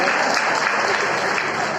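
An audience at a Hindi comedy poetry gathering breaks into dense, sustained clapping, a steady loud wash of applause filling the room without a break.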